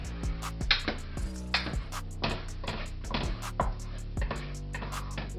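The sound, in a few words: scrambled eggs being stirred around a skillet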